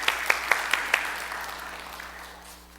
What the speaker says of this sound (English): Why don't we welcome with a round of applause?